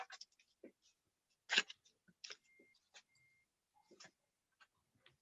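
A few sharp scissor snips cutting a ceremonial ribbon at an official francophone welcome-centre launch, scattered dry clicks and crisp cuts heard close and fairly quiet against an otherwise still room.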